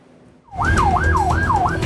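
An ambulance siren wails in a rising and falling pattern, loud and close, after a quieter moment; the ambulance is held up by a wedding convoy blocking the road.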